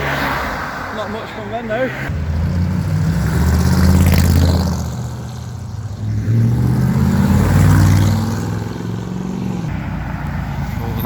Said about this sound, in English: looks like the Audi R8 is leaving next